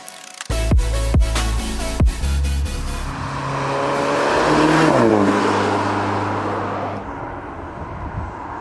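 A Cupra Ateca Limited Edition all-wheel-drive SUV launches with launch control: a few sharp revs against the limiter, then a loud surging acceleration through the gears with rising engine pitch, fading as it pulls away.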